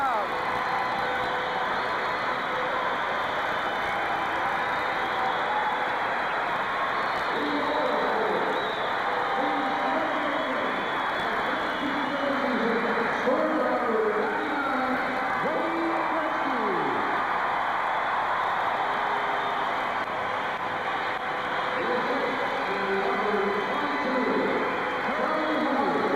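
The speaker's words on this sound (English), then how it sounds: "Listen to this crowd." Arena crowd noise roars continuously throughout at a Vancouver Canucks versus Edmonton Oilers hockey game after a Wayne Gretzky goal, a dense, steady wash of cheering and chatter with no break or lull.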